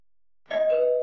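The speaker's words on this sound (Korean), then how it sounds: "이 동네 사람 같은데 왜 우리 집 초인종을 누르지?" After a moment of silence a doorbell rings once at a house at night, a single clear electronic chime that sustains its tone to the end, loud and close with no talk.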